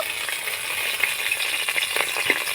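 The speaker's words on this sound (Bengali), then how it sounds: "ফোড়নটা আমি নাড়াচাড়া করে হালকা ভেজে নিয়েছি" Whole cinnamon, cloves, cardamom, bay leaves and a split dried red chili sizzle steadily in hot oil, with soft stirring scrapes and small crackles popping through the continuous close frying hiss.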